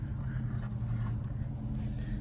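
A Chevy 350 small-block V8 idles and rumbles steadily up close, a deep continuous engine drone with no break across the stretch.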